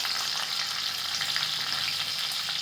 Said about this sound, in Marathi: अर्धा चमचा जिरे आणि थोडीशी हिंग त्यामध्येच तीन चार मिरच्या हिरव्या मिरच्या टाकते